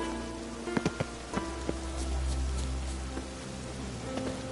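Steady rain in a video game (The Witcher 3) patters on a surface, with occasional heavier drops tapping out, and no voices.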